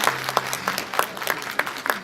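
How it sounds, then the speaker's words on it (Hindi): At a mushaira poetry gathering in Dubai for Indian Republic Day, an audience claps in sparse, uneven bursts, individual hand claps standing out at a fairly regular rhythm over a faint background hum. "एक बार जोरदार तालियां हमारे भारत देश के लिए हो गए"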